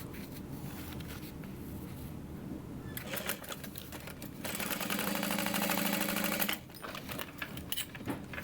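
Sewing machine stitching the side panels of a fabric bubble bag to its bottom, running in steady mechanical bursts that grow louder and denser mid-clip before easing, close and continuous with no talking.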